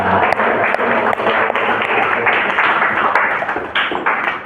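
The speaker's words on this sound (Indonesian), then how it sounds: "tepuk tangan" Students in an 11th-grade mathematics class clap together after a group presentation, a dense, steady patter of many hands close by, with some voices mixed in underneath.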